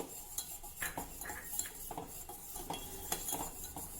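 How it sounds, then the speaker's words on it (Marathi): A spoon stirs a pot while a premix is added bit by bit, with clinking metal scrapes and taps against the pot in an irregular rhythm, close and fairly quiet. "आता हे प्रीमिक्स आपल्याला थोडं थोडं करत घालायचं आहे आणि ढवळत राहायचं आहे"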